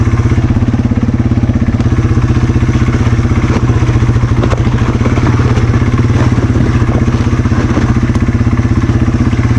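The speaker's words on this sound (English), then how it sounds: "You gotta drop the clutch and pop the front wheel up and nothing happens." A dirt motorcycle on a muddy trail revs loud and close with a steady rapid engine thrum while the rear wheel spins out, a continuous droning roar without talk.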